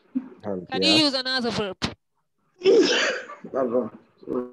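One loud, abrupt sneeze bursts out in a classroom during a language lesson. A teacher's voice is heard talking just before it, and speech resumes right afterward.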